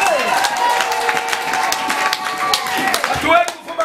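A church congregation clapping in praise of Jesus, a dense patter of many hands with scattered cheers, mixed with a loud voice and voices around, lively and close.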